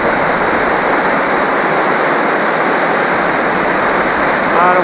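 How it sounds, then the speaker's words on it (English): Pine Creek falls in Montana's Absaroka Beartooth Mountains roar under heavy early-July snowmelt, a loud, dense and unbroken wash of falling water close by, steady throughout with no voices over it. "get a better look at those falls"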